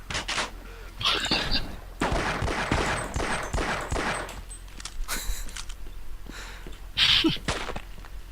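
Video game gunfire as a player wastes ammo, rapid bursts of shots in a dense, loud volley with brief pauses, closer sharp cracks near the start and end.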